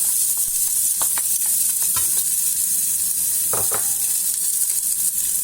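Onions sizzle in about two tablespoons of hot oil in a pot for Moroccan-style lentils, a steady bright hiss close up, broken by a few scraping stirs of a utensil.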